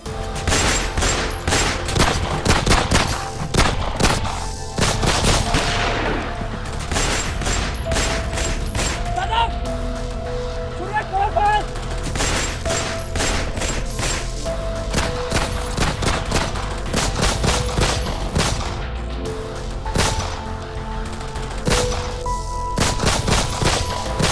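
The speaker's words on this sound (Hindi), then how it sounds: "कैसे पुलिस और आतंकवादी के बीच गोलीबारी चल रही है" Rapid bursts of gunfire from a staged police and terrorist shootout on a TV drama set, loud sharp cracks in dense volleys and scattered single shots over about twenty seconds, with voices in the background.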